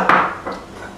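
A bowl picked up and set down on a surface, one brief hollow clatter followed by a softer knock, close and loud in a quiet kitchen.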